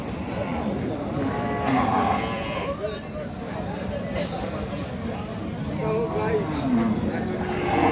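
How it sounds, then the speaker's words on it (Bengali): A Sahiwal cow moos repeatedly at a cattle market, the low drawn-out calls rising over a steady hubbub of nearby voices and crowd noise. "এইটা গাভী দর্শক।"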